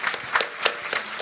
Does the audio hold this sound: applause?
yes